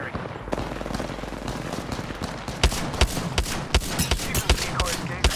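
Gunfire in Apex Legends, a steady crackle of automatic shots that turns into sharp, loud bursts repeating every fraction of a second, with a voice speaking over the game action.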